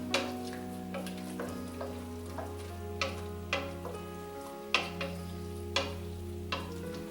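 Roux being stirred through mushrooms and onion in a pan for beef stroganoff, with a steady low sizzle and repeated scraping spoon strokes at an irregular pace, close and fairly quiet.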